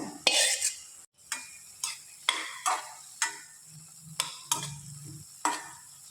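Okra fries in a pan while a spoon stirs it in regular strokes, each scrape and clink standing out sharply over a faint sizzle, close by with no talking.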